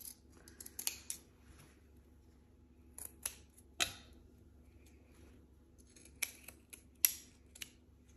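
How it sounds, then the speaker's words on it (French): Scissors snip the fabric corners of a sewn coat, giving sparse, quiet, close cuts spaced a second or more apart over a faint low hum. "je vais prendre les ciseaux et je vais dégarnir ces angles"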